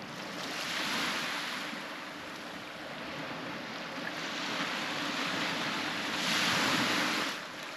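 Strong gusty wind buffeting the microphone over steady ocean waves and surf, a continuous loud roar that swells and eases in slow gusts, with no voices.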